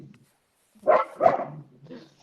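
A small dog barks twice in quick succession, close and fairly loud, with a fainter yip after, in a quiet room during an English conversation class.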